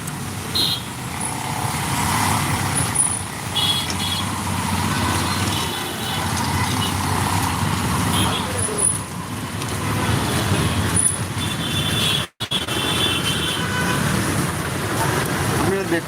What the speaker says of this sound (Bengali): এই বাসগুলো রাস্তার মধ্যে দাঁড়িয়ে তারা যাত্রী ওঠানামা করছে